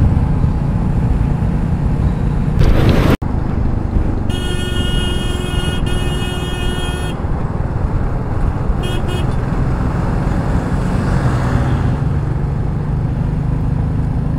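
Steady roar of heavy truck traffic rolling along a national highway in northern India, with a sharp thump near the start and a long blaring horn blast in the middle over the constant rumble.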